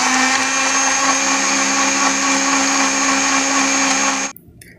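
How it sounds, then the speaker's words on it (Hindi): An electric mixer grinder blends bananas and milk into a milkshake with a loud, steady high whine for about four seconds, then cuts off abruptly. "अच्छे से ब्लेंड कर लेंगे।"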